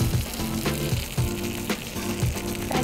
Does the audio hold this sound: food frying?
yes